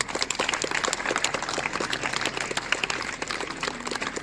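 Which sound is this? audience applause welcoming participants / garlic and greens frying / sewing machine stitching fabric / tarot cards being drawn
audience applause welcoming participants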